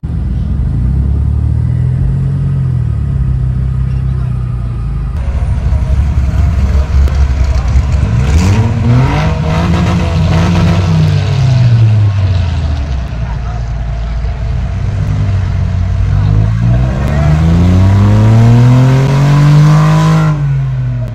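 A loud car engine revs up and down repeatedly while leaving a Cars and Coffee event, its pitch swelling and falling in several long sweeps over a constant rumble.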